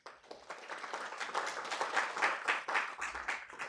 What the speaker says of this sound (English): let us all give our speakers a round of applause